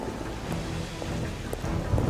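Raindrops falling in a steady dense patter with a low rumbling thunderstorm wash beneath, continuous and fairly loud with no talk.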